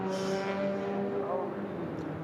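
Race cars sweep across the line at the Nürburgring during an ADAC 24h qualifier, a group of engines droning and fading past at a distance under a commentator's voice.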